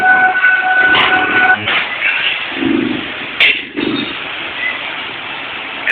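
A loud wailing fire truck siren at a house fire, mixed with traffic and engine noise, sustained through the clip with brief bumps of passing vehicles.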